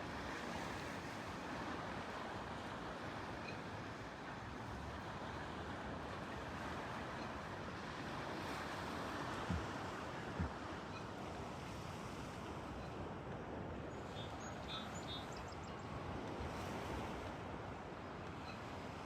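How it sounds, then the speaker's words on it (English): Continuous wash of boat-wake water waves and surf with wind noise, steady and fairly quiet, with no voices. "Refracting water waves."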